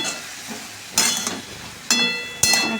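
Snake gourd (chichinga) frying in a pan is stirred with a utensil: three sharp scraping strokes over a soft background sizzle, close and clear, with no talking.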